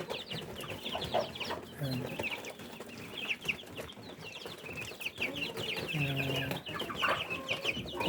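Newly hatched ducklings on a farm, peeping and chirping continuously in a busy overlapping chorus at close range, with low clucking fowl sounds mixed in.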